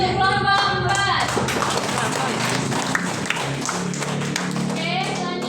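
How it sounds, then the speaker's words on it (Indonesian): Classroom applause for a student group after their presentation, dense continuous clapping from many hands mixed with chatter and voices, steady and loud throughout. "Beri tepuk tangan untuk kelompok 4."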